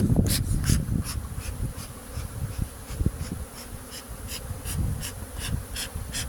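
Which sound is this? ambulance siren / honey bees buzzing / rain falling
honey bees buzzing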